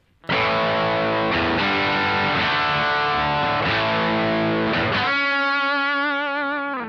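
A high-gain distorted electric guitar played through a Neunaber Iconoclast speaker emulator chugs through several rhythmic chords, then lets one final chord ring out and slowly fade, loud and up front.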